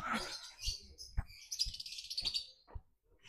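Bird chirps from a female swiftlet kept alongside lovebirds, a few short bright tweets and brief calls scattered over several seconds, fairly close and moderately faint, with no talking.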